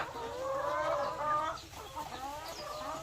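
Laying hens about seven months into their egg-laying period cluck close by, a flurry of overlapping calls that peaks and then breaks into scattered softer clucks.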